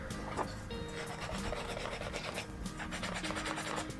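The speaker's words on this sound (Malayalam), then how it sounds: "ഇനി ഈ രണ്ടാമത്തേതും നന്നായിട്ട് പോളിഷ് ചെയ്തെടുക്കുന്നു." A coconut shell is polished by hand, a steady, continuous rasping rub that sits close and fairly loud for the whole stretch without pauses.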